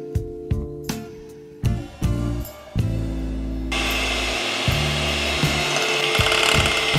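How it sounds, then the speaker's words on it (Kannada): An electric hand beater whirs through red velvet cake batter in a bowl, with sharp clattering starts and stops before settling into a loud, steady mechanical whine; no talking. "ಚೆನ್ನಾಗಿ ಬೀಟ್ ಮಾಡಬೇಕಿದು."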